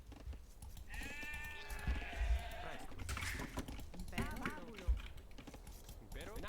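Sheep bleating in an Age of Empires-style strategy game, a clear wavering bleat followed by a second shorter one, mixed with keyboard typing and mouse clicks and a voice talking over it.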